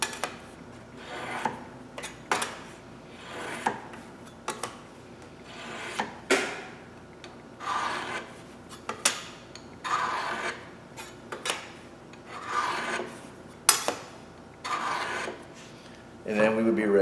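A metal file rasping across the edge of a steel scraper in repeated strokes, each stroke a short rough scrape with brief pauses between, close and moderately loud.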